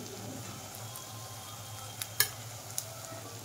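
Spice masala with turmeric and red chili powder sautéing in a pan, a faint, steady low sizzle with a few brief utensil clinks near the end, quiet and without talk.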